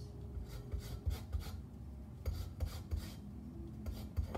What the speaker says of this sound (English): So let me zest this.